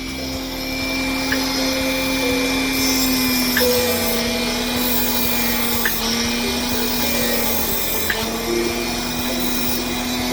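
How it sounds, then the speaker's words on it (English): Small Dremel rotary tool grinding on a part of a Mazda RX-7 FC3S drift car, a steady high-pitched whine that holds for about ten seconds, close and fairly loud, with faint periodic ticks of contact and no voices. "But I'll take our little Dremel, and I'll go up towards it."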